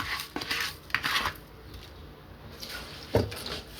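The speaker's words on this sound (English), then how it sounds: "So I'm going to add the rice like this." About 2.5 pounds of rice poured into a pot for Jamaican mackerel rice: rattling, grainy bursts against the pot in a few uneven pours, close and fairly clear, with no talking.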